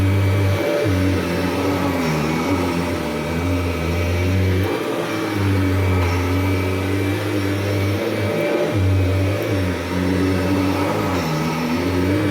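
A 1991 Kirby Generation 3 upright vacuum cleaner runs continuously with a loud, steady motor whine and airflow roar, close and unbroken for the whole stretch, with no talking.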